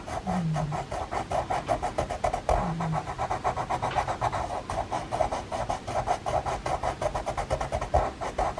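Rapid, rhythmic scratchy rasping of a pencil stroking back and forth across heavily textured paper, close up, with a couple of brief pauses.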